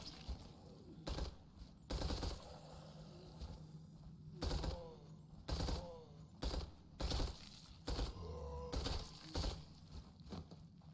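Short bursts of SMG fire in the Nightmare of Decay video game, repeated every second or so, fairly near and crisp, with shatter-like impacts between bursts.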